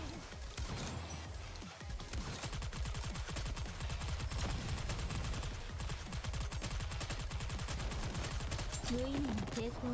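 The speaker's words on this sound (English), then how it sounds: "Damn, those bombs were like super close." Rapid gunfire and bomb blasts in the Nikke: Goddess of Victory video game, dense machine-gun bursts in a fast steady rhythm with heavy booming impacts, loud and continuous throughout.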